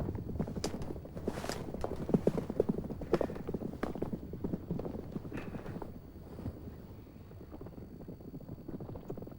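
Steady, rhythmic hoofbeats thud close by over gusty wind noise, a horse moving at a brisk pace.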